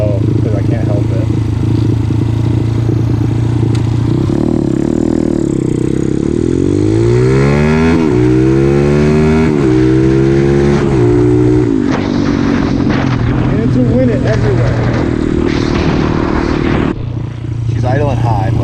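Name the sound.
motorcycle engine revving while riding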